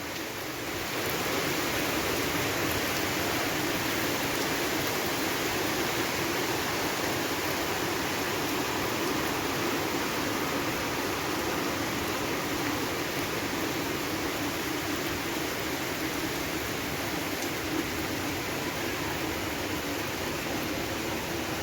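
A heavy morning downpour roars as a dense, unbroken wash of noise, even and constant throughout with no voices.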